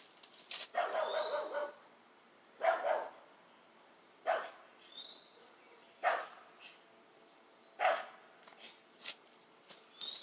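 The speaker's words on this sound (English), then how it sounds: "Had to go see if Devil Dog next door was out." A dog barks several times at a distance, single and double barks spaced a couple of seconds apart, with quiet gaps between.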